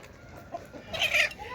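Chickens let loose in a home yard cluck in a short burst that swells toward the end, fairly close and loud over low background noise.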